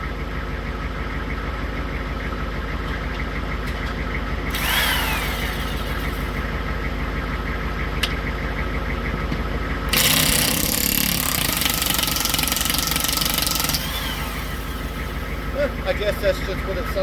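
Robo 24V impact wrench straining under load, a loud continuous rattling hammer that surges into harsher bursts of impacting, heard close over a constant engine-like drone, with brief voices in between.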